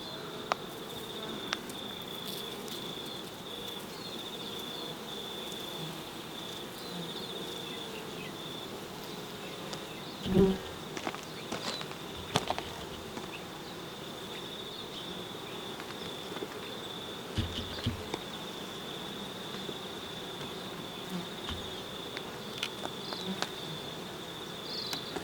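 Honey bees buzz in a steady, dense drone at an open hive of healthy Italian bees with new brood emerging, a continuous close hum with a few brief knocks and handling sounds.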